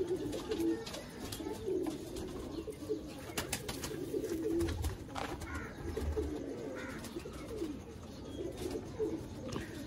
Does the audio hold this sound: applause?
no